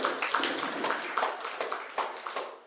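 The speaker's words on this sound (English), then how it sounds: "Let's clap for her as she comes." Audience members at a morticians' conference clap to welcome a speaker, a fairly close, dense patter of many hands with no talk over it.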